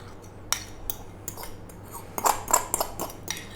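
Chicken mayo salad being stirred with a lemony mayo dressing, giving a run of soft, irregular clinks and scrapes of a utensil against the bowl, close and fairly quiet, with no talking.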